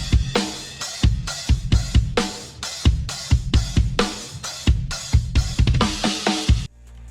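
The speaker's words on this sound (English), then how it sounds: "I started it off with this just drum sample I found from Splice." Drum loop from a Splice sample pack, a punchy pattern of sharp hits with steady kicks and crisp snappy percussion in a bouncing rhythm, close and clear with no voices.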